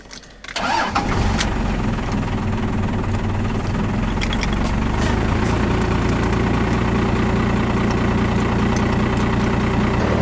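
A car engine cranks and catches, then settles into a steady, low, continuous idle rumble close by with no talking.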